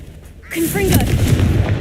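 Confringo, an explosive fire spell cast in the video game Hogwarts Legacy, bursts in with a sudden loud blast and a whooshing crackle that keeps rumbling to the end, after a quiet lead-in.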